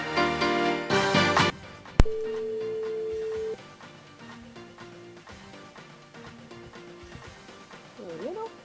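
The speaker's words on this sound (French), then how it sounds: "On appelle Maggie du côté de Sainte-Marie" Telephone tones of an outgoing call placed live on a French-language radio morning show to a listener in Sainte-Marie: long steady beeps after a burst of music and a sharp click, with a brief voice at the end.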